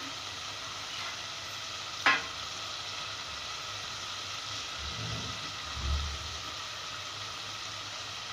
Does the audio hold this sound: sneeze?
no